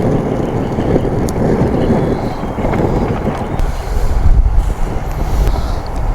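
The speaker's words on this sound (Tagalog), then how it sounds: "Pero mahangin naman." Wind gusting at a rainy solo campsite, a steady loud rushing and buffeting noise that hits the microphone close up and surges and eases, with no talking.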